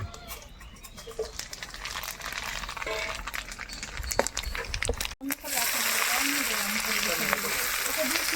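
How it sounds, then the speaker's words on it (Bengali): Chilli, bay leaf and whole cumin crackle and sizzle as they hit hot oil for tempering, a steady loud frying hiss that swells after a sharp clatter midway, with chatter and household noise in the first half. "ঘন্টা লঙ্কা তেজপাতা আর গোটা জিরে একসঙ্গে ফোড়নে দিচ্ছি"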